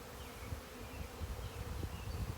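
Bees drone steadily around beehives, a dense, continuous buzz hanging close and constant with no voices over it.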